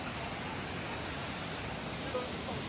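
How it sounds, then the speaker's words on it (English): The Fall of the White Meadow, a waterfall on the Four Waterfalls Trail in the Brecon Beacons, Wales, gives a steady, dense roar of rushing water, loud and unbroken, with no talk heard. "So that's the first waterfall."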